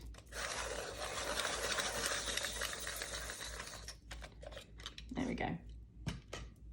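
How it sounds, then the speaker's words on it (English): A coloured pencil being sharpened, a steady close grinding rasp lasting several seconds, then scattered clicks and light handling knocks. "Let me just sharpen it again."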